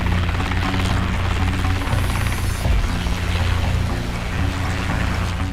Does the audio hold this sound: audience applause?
no